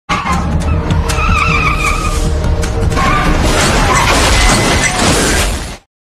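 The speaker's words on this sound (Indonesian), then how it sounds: "Terjadilah aksi pengejaran dengan mobil disertai tembakan peringatan." Loud car chase from an Indian film with tires skidding and squealing over roaring engines, a continuous rush of vehicle noise that cuts off abruptly at the end.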